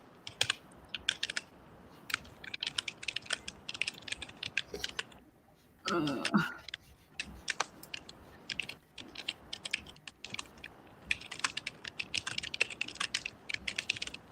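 Rapid clicking of computer keyboard keys in uneven bursts, close by, with a brief louder rustle midway and quiet voices in the background.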